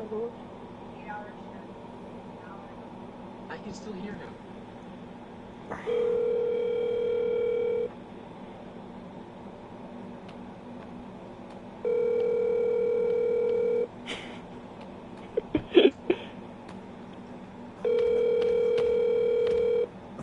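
Outgoing phone call ringback on a handset, three long steady tone bursts about two seconds each separated by silence, with faint background sounds and brief clicks between rings.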